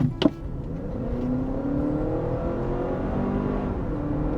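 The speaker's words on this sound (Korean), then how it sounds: "지금 이 혼다 시스템에 들어가 있는 2리터 4기통 가솔린 엔진은 RPM을 띄워도요 엄청 매끄러워요" A Honda CR-V hybrid's 2-liter four-cylinder gasoline engine revs smoothly, giving a steady, even hum whose pitch climbs slowly, after a brief knock at the start.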